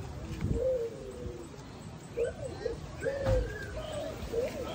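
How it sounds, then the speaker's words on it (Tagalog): Several birds call with short cooing and warbling notes in scattered bursts, fairly close, over a faint outdoor background at a bird sanctuary in the Cayman Islands. "Daming ibon, no?"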